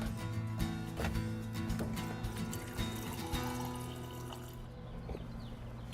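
Drinking water pours steadily from a plumbed fridge dispenser into a container, splashing and trickling close by over a constant low mechanical hum before tapering off near the end.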